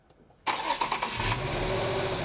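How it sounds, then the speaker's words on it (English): Car engine cranking during a spark test in a garage, starting abruptly after a short quiet moment with a rapid churning starter rhythm, loud and close, continuing steadily to the end. "Josh, why don't you fire it up and let's see if we got some spark"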